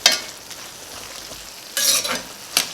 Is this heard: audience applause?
no